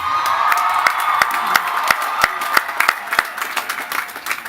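A commencement crowd at a college graduation cheers and applauds the graduating class, with whoops and scattered sharp claps rising and falling in a steady, dense roar throughout.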